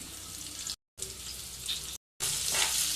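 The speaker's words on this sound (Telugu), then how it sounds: "ఇప్పుడు వీటిని ఫ్రై చేసుకోవాలి ఫ్రెండ్స్." Finely chopped ginger and spices frying in a pan, a steady close sizzle that cuts out twice and then returns louder and brighter, with no talk.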